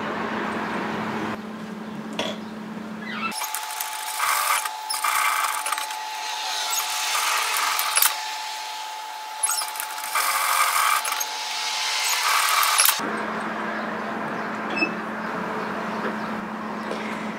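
A sewing machine stitches a seam from a fold up to a notch at a 1 cm allowance, giving one steady, close whirring run of about ten seconds between quieter stretches.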